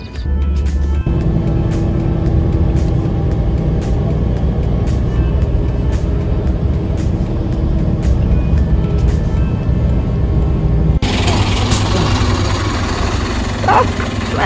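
Interior of a bus on an early-morning ride, the engine rumbling low and steady with a regular ticking rhythm throughout, before the sound shifts abruptly to a different, noisier space near the end.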